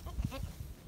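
Goats kept on an apartment veranda in the city bleat in short nasal calls, a couple of quick bleats close by against a noisy, rustling background.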